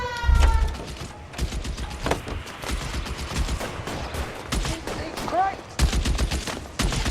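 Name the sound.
gunfire in L.A. Noire video game shootout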